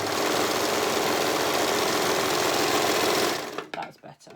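A sewing machine runs continuously as it stitches the rolled hem of a romper, a loud, close, steady whirring drone that stops abruptly near the end and leaves a few faint clicks and handling noises.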